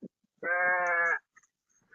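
A single close, sustained bleat from a ewe kept in a pen at feeding time, with a few faint rustles and small sounds around it.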